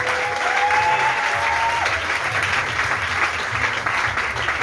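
A church congregation applauds continuously at a harvest festival service, a dense, steady wash of clapping with a brief whistle-like tone early on and no speech over it.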